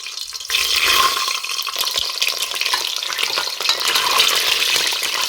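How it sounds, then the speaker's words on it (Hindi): Eggs dropped one by one into hot oil in a pan for egg biryani, giving a loud, continuous close sizzle that bursts up after a quiet start and crackles steadily, with no talking. "तेल भी गर्म हो चुके, इसमें एक एक करके मैं अंडे डालूंगी।"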